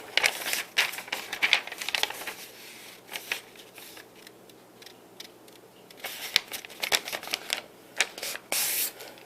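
Printed sheets from an ImageWriter II printer being folded by hand, with bursts of crisp crinkling and rustling paper separated by quiet pauses, close and moderately loud.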